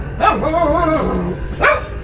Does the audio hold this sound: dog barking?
yes